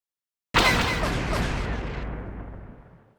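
Gunfire in the video game Star Wars: Knight of the Old Republic, a sudden loud blast erupting out of silence followed by rolling, rattling shots that slowly decay over a few seconds.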